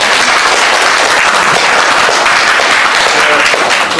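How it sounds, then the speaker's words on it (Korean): Audience applause fills a general meeting hall, a dense, steady roar of many hands clapping at once, loud and sustained without a break. "다시 한번 큰 박수 부탁드립니다."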